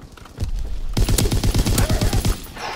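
A Lewis machine gun fires in Call of Duty WW2 multiplayer: a long rapid burst of loud close shots in an even rhythm lasting about two seconds, then a short tail, with no talk.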